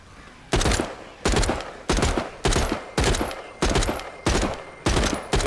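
Gunfire at zombies in the VR game The Walking Dead: Saints and Sinners, nine loud, sharp shots at a steady spacing of roughly half a second to a second, each with a decaying tail, and no voices.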